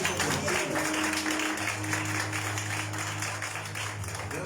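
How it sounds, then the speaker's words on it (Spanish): A church congregation applauds, with scattered clapping under sustained music tones and a low hum that carry on steadily throughout. "Denle un aplauso al que vive por los hijos."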